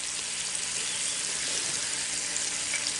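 Rabbit pieces and onions browning in a Dutch oven give a steady, close, even sizzle and fry hiss that holds without pause, with no talking.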